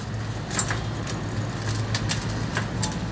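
A Shimano front gear shifter clicks through gears on an Urban Terrain UT1000 21-speed 27.5-inch mountain bike, giving several short, crisp ticks spaced irregularly over a low steady hum, close but fairly quiet.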